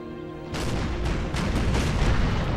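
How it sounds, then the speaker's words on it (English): Heavy artillery booms in the American Civil War battle game NTW ACW. A steady, loud roll of cannon fire sets in after a quiet start and continues densely to the end. "And then just all artillery after that"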